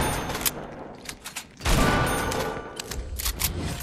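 Gunfire from the Fortnite battle royale game: a few scattered bursts and shots, then a loud boom-like blast around the middle followed by sustained rattling fusillade, fairly close and dense, with no talking.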